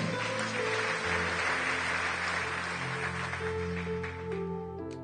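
A church congregation applauding and acclaiming the Lord during a French-language service: sustained dense clapping with a steady organ or keyboard drone underneath, fairly loud and continuous.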